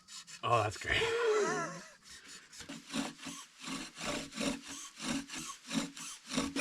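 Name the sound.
wooden bow drill spinning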